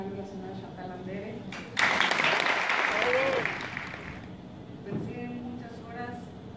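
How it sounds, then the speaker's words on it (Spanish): An audience bursts into loud, sustained applause and cheering for Chantal Andere as she is called onto a stage at a televised show. The clapping lasts about two seconds before fading, with voices heard before and after. "Yo quiero que le demos un aplauso enorme"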